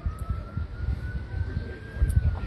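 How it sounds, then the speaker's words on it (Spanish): A faint police siren wails far off in a Veracruz, Mexico neighborhood, a thin steady tone drifting slightly in pitch over low rumbling background noise. "Se oyen sirenas a lo lejos."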